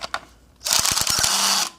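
A ratchet wrench tightens a 13 mm nut on an inverter mount, giving a short run of quick, close clicking after two faint opening ticks, then a brief whirring finish.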